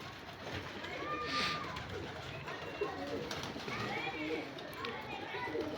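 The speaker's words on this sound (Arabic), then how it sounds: "شوف الحمام" Pigeons coo on a rooftop loft amid a steady outdoor hubbub with distant children's voices and chatter, with soft low coos and a brief whistle-like call rising out of the background.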